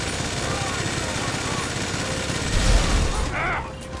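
Sustained gunfire from a Grand Theft Auto V heist shootout, a dense continuous rattle of rapid shots with a heavier burst near the end, a voice briefly heard over it.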